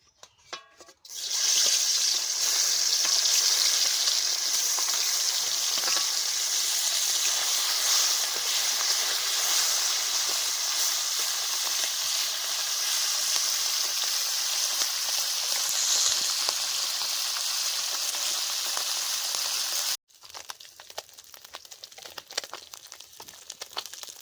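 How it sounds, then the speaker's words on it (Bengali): Fish frying in hot oil in a wok, a loud, dense, continuous hiss and crackle up close that runs for about twenty seconds, then cuts to a quieter, patchier sizzle, with no talking. "মাছগুলো ভেজে নেবো"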